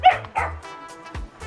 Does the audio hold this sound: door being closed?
no